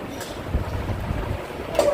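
Steady wind buffeting the microphone, a low rumbling roar with gusts rising and falling, loud and close, no voices.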